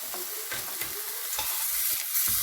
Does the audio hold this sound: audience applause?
no